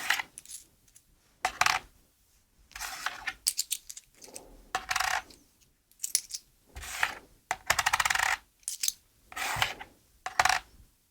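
Polish złoty coins are set one after another onto the keys of an Arturia KeyLab Essential MIDI keyboard, producing a series of short, sharp metallic clinks and clatters separated by quiet gaps.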